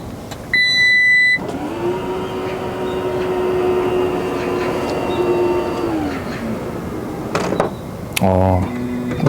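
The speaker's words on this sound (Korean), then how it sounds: "트렁크를 한번 킥으로 닫아도 볼까요?" Power tailgate on a Lexus RX 450h motoring closed after a kick, a smooth, quiet hum of the actuator rising and holding for several seconds, ending in a soft latch with a few beeps, talk over parts of it.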